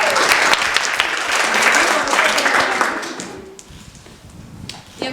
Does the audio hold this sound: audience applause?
yes